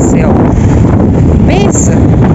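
Strong wind gusting outdoors beside cold water, a loud continuous rushing roar buffeting the microphone throughout, with brief tonal squeaks partway through.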